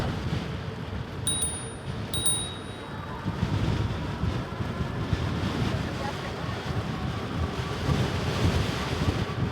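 Strong wind roars and buffets the microphone in a continuous low rumble while riding a cargo e-bike, with two brief high beeps early on.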